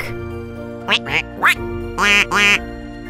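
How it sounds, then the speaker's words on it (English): A duck quacks loudly nearby, a quick run of three short quacks followed by two longer, harsher ones, with quiet music underneath. "Duck."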